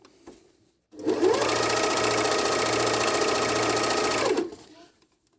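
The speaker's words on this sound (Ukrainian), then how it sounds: "І поїхали шити." SilverCrest 90 A1 overlock sewing machine stitching a seam, a steady fast motorized whir with rapid needle chatter lasting several seconds before winding down, close and loud, no talking.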